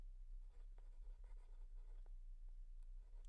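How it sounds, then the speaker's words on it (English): Close, quiet scratching of a pen writing notes about electrostatics, with short irregular strokes over a low steady hum and no talking. "let me write it down"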